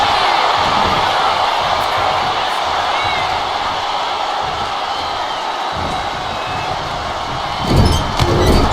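In the WWE 2K25 video game arena, a large crowd cheers with a steady, loud roar that swells near the end, with a few impact thuds.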